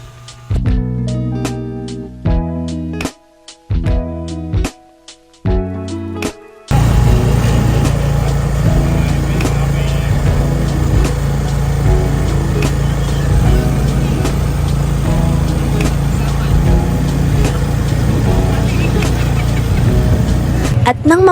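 A motor tricycle engine drones steadily with road and wind noise throughout a ride, after an opening stretch of choppy tonal notes.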